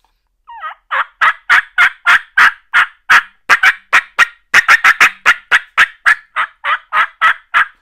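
Loud, close rapid series of about two dozen sharp turkey yelps and cuts, produced on a Woodhaven green wasp split V mouth call, a voice imitating a turkey.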